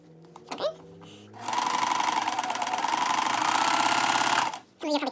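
A sewing machine stitches a pants seam over pins in one loud, steady burst of about three seconds, with brief rustling and a short voice before and after.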